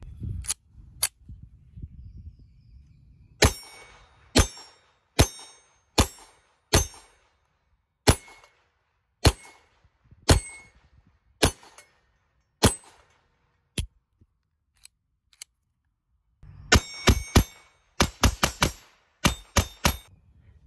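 High Standard Duramatic .22 LR pistol firing at steel targets, sharp single cracks spaced a second or so apart, then a quicker rapid string near the end, close and unaccompanied by talk.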